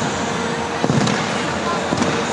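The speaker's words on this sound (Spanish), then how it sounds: "Los fuegos artificiales que le dan color a la finalización de la Copa del Mundo." Fireworks burst over the stadium at the close of the 2014 FIFA World Cup final in Brazil, Germany against Argentina, two soft thuds rising out of a steady roar of crowd noise.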